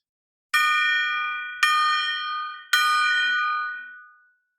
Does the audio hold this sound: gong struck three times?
yes